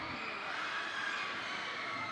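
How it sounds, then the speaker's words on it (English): A crowd at a graduation and kente ceremony cheers and shouts in a continuous, fairly loud wash of voices that holds steady throughout. "the crowd, I love it"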